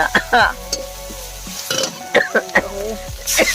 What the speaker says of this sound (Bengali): এইবারে কিন্তু মা মাছটা ফেলে দিল, এবারে ঝালের জন্য প্রস্তুত চলছে, নেড়ে নিচ্ছে